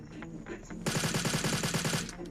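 Rapid automatic gunfire in a shooting video game, a fast burst of about a dozen shots rattling close and loud for over a second, with faint game sounds before it.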